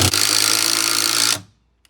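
A power drill drives a screw into a wall stud with one loud, close, steady whir lasting just over a second before it cuts off.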